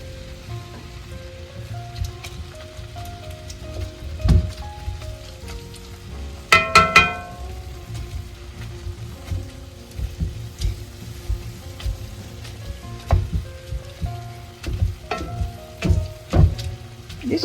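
Ground meat and onion sizzle steadily in a hot skillet for a casserole, a soft continuous crackle broken by sharper pops and the clinks of a utensil.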